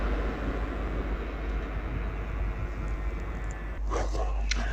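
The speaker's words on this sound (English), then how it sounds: "Driving in now is a LNER service to London's King's Cross from Edinburgh" LNER passenger train on the Edinburgh to London King's Cross service pulling into Durham station, a steady broad rumble of rolling stock throughout with brighter rail and wheel noise rising in the final second.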